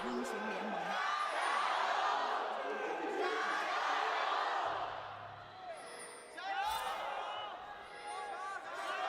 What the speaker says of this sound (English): The crowds yell for a final time today.